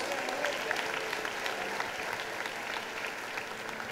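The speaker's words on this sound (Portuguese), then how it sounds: "Dá mais uma salva de palmas para Jesus." Sustained applause from a church congregation, steady and even throughout with no pauses.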